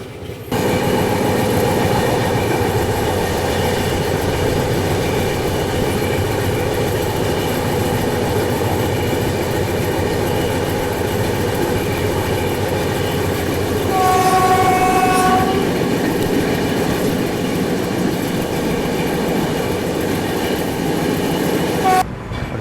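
The Jammu Tavi Humsafar Express pulls into Delhi Safdarjung railway station with a steady, loud rolling rumble of wheels and carriages. A short horn blast sounds about two-thirds of the way through.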